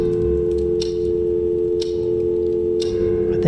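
A steady telephone dial tone hums from a handset in the PC horror game Scratches, accompanied by three evenly spaced clicks and a low background rumble.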